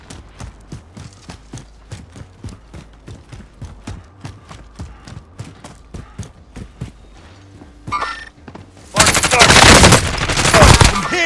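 Video game gunfire crackles as a steady run of sharp, evenly spaced shots, loud and close, ending in a much louder burst of noise and shouting.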